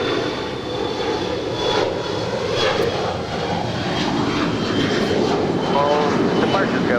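A Boeing 777-300ER airliner taxiing and turning at LAX, a steady broadband jet engine roar with a faint whine, constant and moderately distant, with people talking over it.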